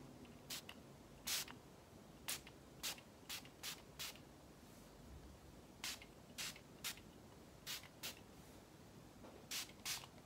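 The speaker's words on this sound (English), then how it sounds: "I'm just gonna keep it at some distance and spray it." A fine mist spray hissing in short bursts, around fifteen quick spritzes at an uneven rhythm, close and fairly quiet.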